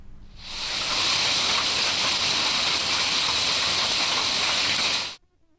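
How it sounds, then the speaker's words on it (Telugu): Heavy monsoon rain pours down in a dense, steady hiss, loud and close, fading in at the start and cutting off sharply near the end. "అటు ఏపీలోనూ నైరుతి ప్రభావంతో భారీ వర్షాలు కురుస్తున్నాయి."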